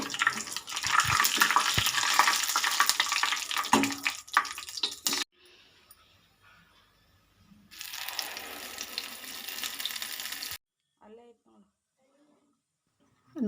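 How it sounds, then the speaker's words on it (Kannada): Urad dal, chana dal, curry leaves, cumin and mustard seeds hit hot oil for a chutney tempering, giving loud, close, crackling sizzles in two long bursts separated by a quieter pause, then fading to near silence. "ಎಣ್ಣೆ ಹಾಕ್ಕೊಂಡಿದ್ದೀನಿ ಉದ್ದಿನಬೇಳೆ ಮತ್ತು ಕಡಲೆಬೇಳೆ ಕರಿಬೇವು ಜೀರಿಗೆ ಸಾಸಿವೆ ಸ್ವಲ್ಪ ಇಂಗನ್ನು ಹಾಕ್ತೀನಿ"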